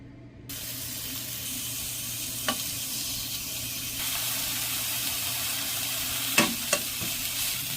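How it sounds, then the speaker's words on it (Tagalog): Ingredients sautéing in a pan for braised beancurd, a steady sizzling hiss with occasional sharp utensil taps against the pan, fairly quiet and without speech. "Ginisa lang po natin yung konting sahog"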